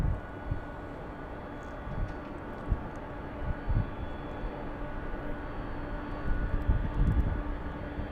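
An Air Canada airliner landing on runway 24R at Los Angeles International Airport, a steady distant jet engine roar with low rumbling swells, faint and continuous with no talk.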